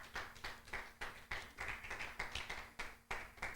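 Congregation clapping in a church service, a rhythmic, fairly soft run of steady claps at a regular beat, as if clapping along in unison.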